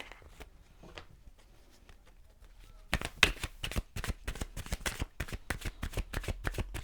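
Oracle cards being shuffled in a tarot reading, a fast run of crisp, close riffling snaps and flicks that starts partway through after a quiet stretch and keeps a steady, busy rhythm to the end.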